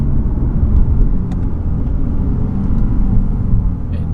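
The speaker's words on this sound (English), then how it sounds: "it is like quick to downshift, so that is good" A Lexus RC F with a V8 engine downshifts, giving a loud, steady low rumble heard from inside the car with no talk over it.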